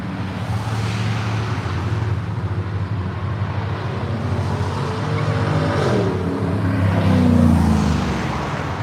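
Cars rumbling past along Woodward Avenue during the Dream Cruise, a steady roar of engines and traffic with one vehicle swelling louder toward the end, heard from a moving car.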